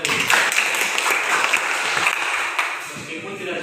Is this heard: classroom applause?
yes